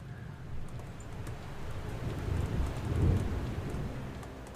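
A rain and thunder sound effect for a dark, stormy night: steady rainfall hisses throughout while low thunder rumbles swell and peak near the end, with no talking.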